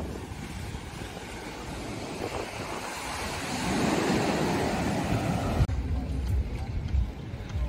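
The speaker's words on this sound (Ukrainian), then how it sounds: "Майже як Атлантичний океан." Ocean surf rolls steadily onto the beach at a Rixos hotel, a continuous washing roar with heavy wind buffeting the microphone and a brief thump near the end.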